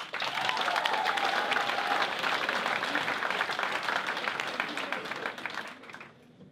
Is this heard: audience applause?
yes